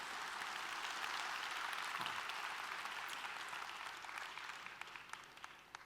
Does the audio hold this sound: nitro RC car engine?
no